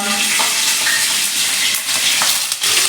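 Ginger and green chillies sizzle steadily in hot oil in a pan, a close, continuous crackling hiss with no talking.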